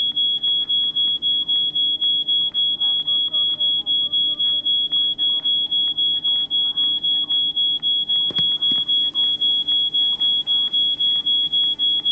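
A loud, fast, evenly pulsed alarm beep in the video game She Could Fly repeats continuously, with a brief clunk partway through and faint talk underneath.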